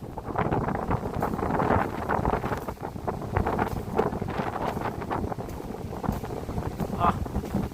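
Strong wind gusts through jungle trees with sparse leaves, roaring and buffeting the microphone in continuous rushes, under occasional talk.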